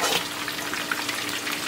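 A steady crackling sizzle of fish frying in hot oil in a pan fills the short moment, close and even, with no talking.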